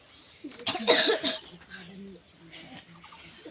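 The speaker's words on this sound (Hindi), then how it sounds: "कितना खांसी होता है?" A child coughs in a Hindi dictation class, a short loud burst of a few coughs early on, followed by quieter murmuring voices and classroom noise.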